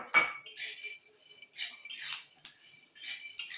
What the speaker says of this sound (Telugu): ఇప్పుడు మనం మినపగుళ్ళు, జీలకర్ర వేసేస్తున్నాను